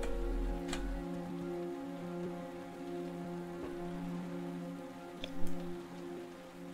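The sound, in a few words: pouring rain in the video game Heavy Rain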